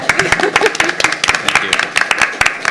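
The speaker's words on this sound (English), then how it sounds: "So I'll give you a round of applause, too." Audience applause at a village board meeting, a loud burst of sharp, irregular claps from a modest indoor crowd, steady for a few seconds.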